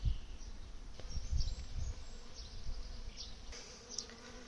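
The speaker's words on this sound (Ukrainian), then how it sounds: "Ну це ж пчоли, бачите, льот хороший." Honey bees fly around their hives beside a buckwheat field in a steady, soft buzzing drone, close and continuous, with no talk over it.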